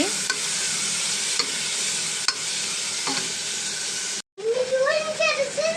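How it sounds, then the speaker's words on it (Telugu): Sliced onions and green chillies fry in about three spoons of hot oil, a loud, dense, continuous sizzle close by with a few stirring scrapes, cutting out briefly before resuming as a voice speaks over it. "దీంట్లో కట్ చేసుకున్న ఉల్లిపాయ పచ్చిమిర్చి వేసుకున్నాం బాగా ఫ్రై అవ్వాలండి ఉల్లిపాయ"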